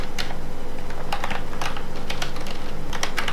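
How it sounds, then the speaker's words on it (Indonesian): Steady computer keyboard typing, a quick run of close, crisp key clicks with an irregular rhythm and no voices, over a faint low hum. "Bakal ngetik aja di sini dah."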